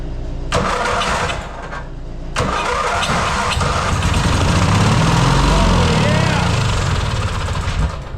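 Lawn tractor engine sputtering through a couple of cranking attempts, then catching and running rough and loud up close, with an excited voice talking over it.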